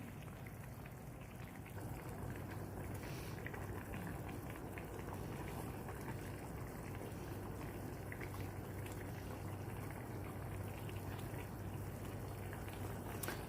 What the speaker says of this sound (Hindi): इसमें बबल आना शुरू हो गए हैं।